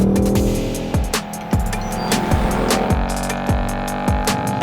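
A Ford Mustang Dark Horse sports car with a naturally aspirated V8 and rear-wheel drive revs loudly and close, its engine note climbing through repeated sharp shifts and crackles.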